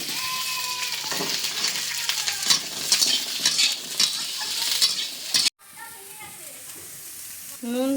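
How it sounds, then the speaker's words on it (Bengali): Red amaranth stalks are stirred in a cooking pan. A close spatula scrapes against the pan over a lively sizzle, and a voice talks at times. Near the end the sound cuts to a quieter stretch. "ডাঁটাগুলো নেড়ে জল ঢেলে দেবো।"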